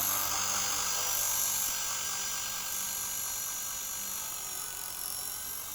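A radio-controlled model helicopter flies nearby with a high, steady electric whine and rotor buzz that fades slightly as it moves, with no voices.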